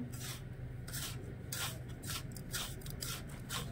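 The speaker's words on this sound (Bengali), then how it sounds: "আবার এই বিস্কুটের গুঁড়োর মধ্যে দিয়ে একটু কোট করে নেব।" Balls of a cabbage mixture roll through biscuit crumbs, making close, quiet rasping rubs in a loose rhythm of short scratchy strokes.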